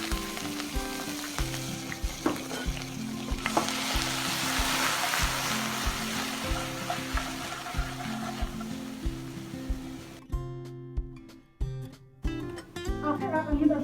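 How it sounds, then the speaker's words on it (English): Chopped onions fry in hot oil for an egg dopayaza, a steady close sizzle with occasional stirring clatter. A soft background tone is audible and the frying quiets toward the end. "Now I want you to add 1 cup of chopped onions."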